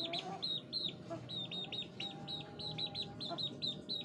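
A chicken held for a 1 ml breast-muscle injection clucks in a rapid, regular series of sharp calls, close and continuous over a low background rumble.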